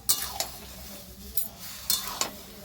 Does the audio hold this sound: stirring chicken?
yes